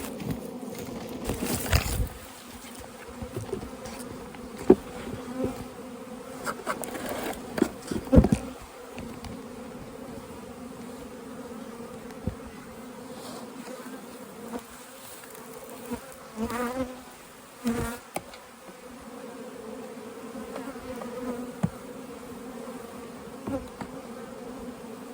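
Honeybees hum steadily in an opened hive with a queen and brood on the comb, a dense close buzz that holds throughout with small shifts in pitch and a few louder passes near the microphone.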